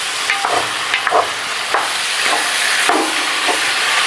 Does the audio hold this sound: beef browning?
yes